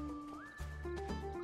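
Lotti the horse in My Time at Sandrock gives a single close, clear whinny, its pitch rising and then wavering for over a second, with no other sound.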